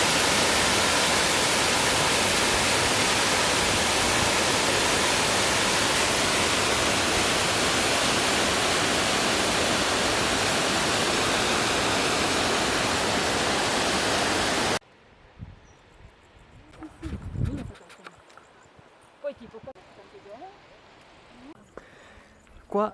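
A loud, steady roar of a mountain waterfall beside a hiking trail fills most of the stretch, then cuts abruptly to quiet footsteps and rustling.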